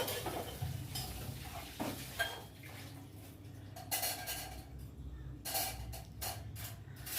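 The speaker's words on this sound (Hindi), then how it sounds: "जो बर्तन जहाँ पर स्टैंड में लगाने हैं वहीं पर लगा दूँगी" Freshly washed dishes and utensils are set into a drying rack in a home kitchen, giving irregular clinks and clatters of metal, near and fairly quiet, with no talking.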